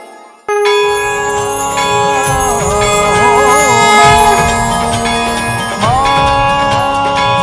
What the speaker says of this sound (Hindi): आपके इस घंटे की ध्वनि से संपूर्ण वातावरण में एक अलग सी ऊर्जा उत्पन्न हो गई है।